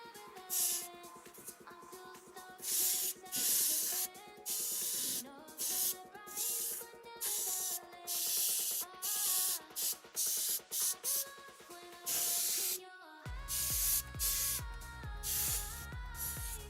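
Spray paint hisses in a spray booth as a series of short, steady bursts, loud and close, with a tonal background that becomes more prominent near the end.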